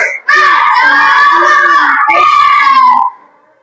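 A class of children loudly chanting a spirit clap routine together, shouted rhythmic voices in two bursts over about three seconds, close and energetic, then a quick fade.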